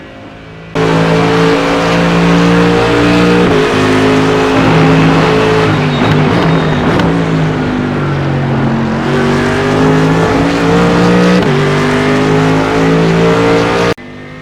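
Race car engine in the iRacing sim, loud and continuous, holding steady high revs with several sharp gear-shift drops and climbs, a brief busier stretch midway, then cutting off abruptly.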